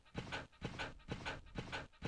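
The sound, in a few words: dog barking in Resident Evil video game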